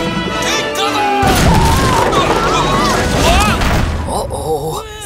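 Shots ring out in a Playmobil animated historical battle with Caesar's troops: a loud volley of booming gunfire under music and shouting voices.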